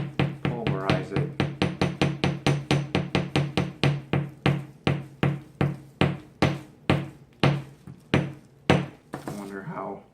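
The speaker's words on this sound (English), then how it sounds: "trying to just whack it with the mallet just makes stuff fly everywhere" A mallet whacks some material about thirty times in a steady series of sharp, loud knocks. The blows are tightly spaced at first, then slow and spread out, and the sequence ends with a brief scrape.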